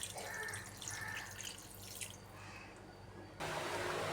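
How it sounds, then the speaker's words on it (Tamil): Two glasses of water pour and splash steadily into a pot of meat curry, with a brief dip before the flow swells louder near the end. "ஒரு 2 கிளாஸ் தண்ணி நம்ம இதில் சேர்த்துக்கலாம்."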